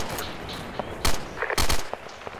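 Arma 2 gunfire cracks out in two loud bursts of rapid shots, with sharper distant reports scattered between them in a short combat moment, no talking.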